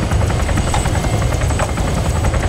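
Helicopter in Arma 3 flying close by, a loud, steady rotor thump over a constant engine roar with no talking.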